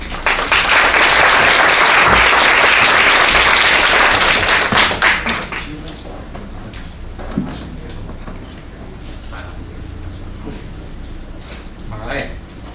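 An audience at a librarians' conference applauds to welcome two presenters, a loud dense burst of clapping that fades after a few seconds, followed by a quieter room with scattered claps and a voice starting to speak.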